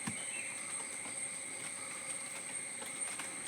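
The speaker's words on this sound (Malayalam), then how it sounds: "ഭയങ്കര തേനീച്ചയുടെ ഒച്ചയാണ് ഇവിടെ" Loud, steady buzzing of a large swarm of honeybees around pollen-laden blossoms, a dense continuous drone filling the whole stretch with no voices.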